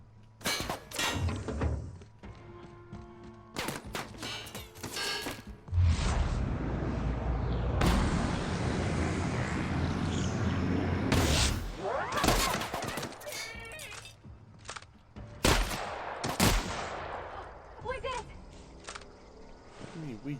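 Gunfire in the video game The Outer Worlds: repeated loud, sharp shots and bursts with metallic clangs, coming in clusters across the stretch, with voices talking between and over them.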